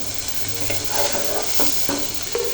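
Shrimp vorta (chingri macher vorta) cooking in a pan, with a steady broadband sizzle and intermittent scraping stir strokes as it nears doneness.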